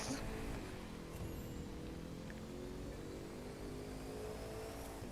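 A fast car in The Crew 2 game accelerates hard, its engine droning steadily and fairly quietly for a few seconds without a break.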